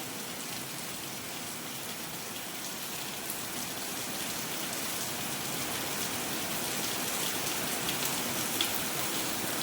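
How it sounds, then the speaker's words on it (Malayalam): Heavy rain pours down steadily, a dense, continuous hiss that swells slightly louder toward the end, with no voices. "നല്ല മഴ പെയ്യുന്നുണ്ട്."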